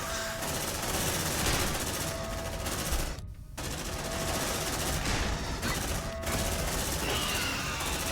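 Marines fire guns at hostile creatures in the video game Aliens: Dark Descent. Loud, sustained automatic gunfire rattles almost without a break, stopping only for a brief gap partway through before hammering on again.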